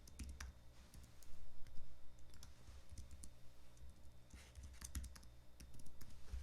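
Password typed on a computer keyboard at close range, a quick, irregular run of light key clicks with a few louder taps, heard alone without speech.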